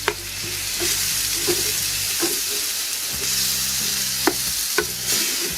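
Tomato cooks in a paella pan over a Lidl mini kamado grill. A steady, close sizzle hisses continuously, broken by occasional sharp scrapes and clicks of stirring.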